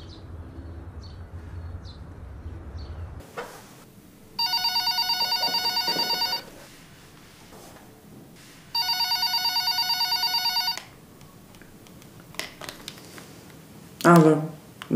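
A telephone ringing during a call home, two long electronic ring bursts with a pause between them, followed by quiet room sound and a brief voice near the end.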